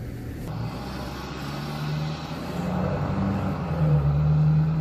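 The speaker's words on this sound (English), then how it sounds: "I do hear a car coming, so..." A truck rolls through a one-lane covered bridge, a steady low engine rumble that swells gradually as it draws closer, with no talking.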